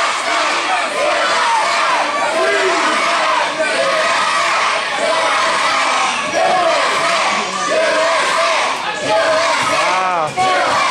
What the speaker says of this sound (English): Wow, look at this crowd, man.